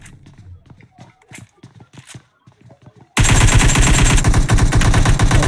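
Heavy automatic gunfire in a video game match cuts in suddenly after a stretch of speech and stays as a loud, dense, continuous burst for over two seconds.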